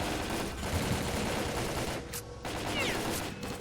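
Rapid bursts of gunfire crackle nonstop in the shooter game S.T.A.L.K.E.R.: Call of Pripyat, dense and loud over a few seconds, with no talking.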